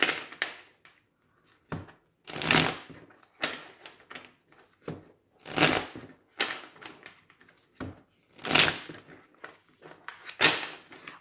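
Oracle cards being shuffled give repeated crisp riffling bursts, close and fairly loud, separated by short pauses, with no speech.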